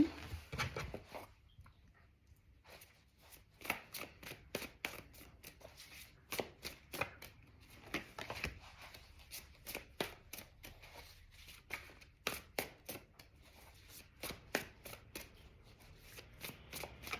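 Crisp bursts of tarot cards being shuffled by hand, a run of quick riffles repeating in close rhythm over many seconds, near and clear with no talking.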